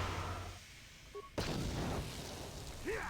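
Frag grenade blast in Star Wars: Knights of the Old Republic bursts suddenly after a quieter stretch, a loud boom followed by lingering rumble and a small whooshing tail.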